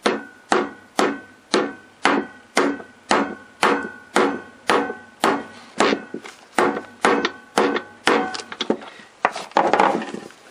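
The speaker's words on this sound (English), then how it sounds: "but I'm going to use this hammer" A hammer tapping out an engine bearing on a Kawasaki KX125, about twenty sharp metallic strikes at a steady rhythm, close and loud, turning quicker and more clustered toward the end.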